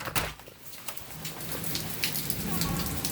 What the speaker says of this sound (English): I heard the thunder that time.